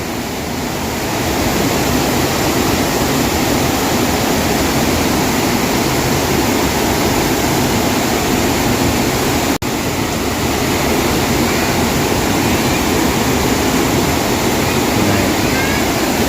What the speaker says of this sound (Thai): จะเป็น คล้ายๆกับน้ำตกเนาะ